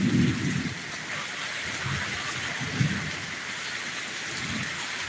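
Rain falls outdoors in a steady hiss on surfaces, with a few soft low rumbles mixed in. It is fairly faint and continuous, with no voices.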